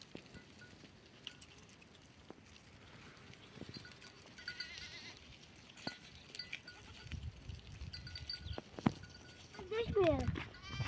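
Lambs bleating several times, fairly close, with voices talking over a rustling outdoor background.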